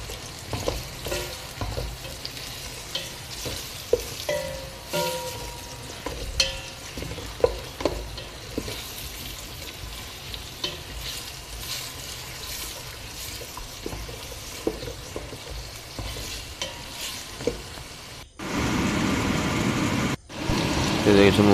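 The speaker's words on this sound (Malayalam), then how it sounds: "ഉള്ളി, തക്കാളി എന്നിവ ആഡ് ചെയ്ത് നല്ലോണം മിക്സ് ചെയ്യുക." Onions and tomatoes frying and being stirred in a pan for home-style chicken biryani, a steady sizzle with scraping stirs throughout, growing louder and denser near the end.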